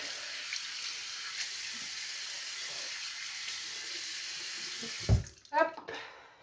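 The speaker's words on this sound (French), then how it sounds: "Donc maintenant, je rince." Running water from a sink tap during a facial skincare routine, a steady close hiss of flowing water, then a few quick splashes as the face is rinsed, with no talking.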